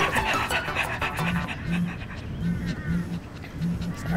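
A dog pants in quick, rhythmic breaths close by, with short squeaky whimpers mixed in and a person talking softly over it.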